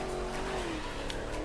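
Car engine and tires in The Crew 2 racing game, a steady droning drive with a rising then sliding engine tone, another car close alongside, no talk.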